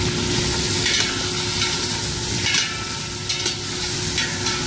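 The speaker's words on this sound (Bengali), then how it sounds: "তারপর এইভাবে ভালো করে মিক্স করে নেবেন" A spice mixture of turmeric, garam masala and roasted cumin powder is stirred and fried in a pan for chicken shammi kebab, giving a steady close sizzle with scraping strokes throughout, no voices.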